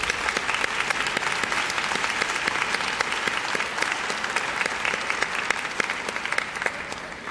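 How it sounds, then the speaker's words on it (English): Steady applause from an audience of families and staff at a kindergarten promotion ceremony, dense and sustained at an even level throughout. "Let's give them a round of applause."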